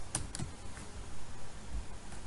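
A couple of quick key presses on a computer keyboard, a Ctrl+S save shortcut while coding JavaScript, giving soft clicks near the start over a low background hiss. No one speaks.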